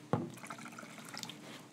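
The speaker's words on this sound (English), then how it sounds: "You fill the well with water." Water is poured into the well of a microwave egg cooker tray, with a short splash at the start and then a quiet trickling fill that stays faint and close.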